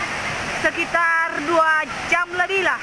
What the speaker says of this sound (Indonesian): Ini namanya air terjun Bihewa.